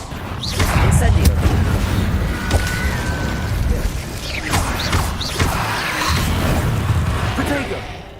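Fire spell effects cast in the Hogwarts Legacy video game: repeated whooshing bursts and booming impacts with mechanical clatter, loud and close, with a voice calling out spell names.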